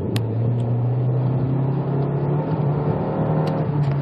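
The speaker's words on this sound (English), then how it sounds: "I'm going to accelerate and see what happens." A 2003 Volkswagen Jetta 1.8T accelerates from about 60 km/h, heard from inside as a steady droning engine note that climbs slightly in pitch over a few seconds.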